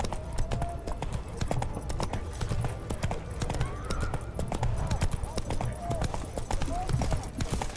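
Roach the horse from The Witcher 3 gallops in a steady clip-clop of hooves, rhythmic and close throughout, with game music and ambient sound underneath.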